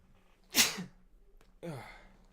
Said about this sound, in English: Oh man, I gotta sneeze.